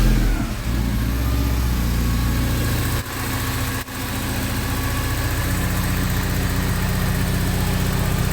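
A 1984 Porsche 944 engine idles steadily nearby with an uneven, slightly hunting rhythm and a low rumble, broken by two brief dips in level, with no talking.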